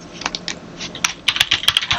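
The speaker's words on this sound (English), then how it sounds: "Let's do a CMD in here and type in" Keystrokes on a computer keyboard while entering a command in a Windows Server 2025 command prompt, a quick irregular run of close, crisp clicks with short pauses between bursts.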